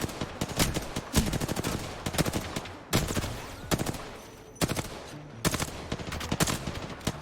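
A video game 1v1 match fills with rapid bursts of automatic gunfire, several dense volleys broken by brief pauses, loud and close throughout.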